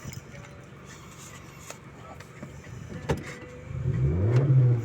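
A 2017 Honda Civic FC 1.5 Turbo engine revving in neutral while parked, starting as a low idle with faint talk, then surging into a loud, rising rev near the end.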